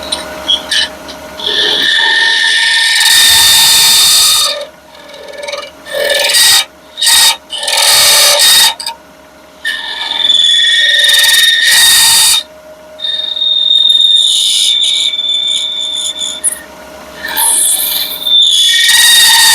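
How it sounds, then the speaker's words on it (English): A vibrating hand tool grinds and rasps against a surface to remove a mark, loud and close in several long bursts separated by brief pauses, with no talking. "Now what that noise you're hearing is this tool is vibrating pretty good."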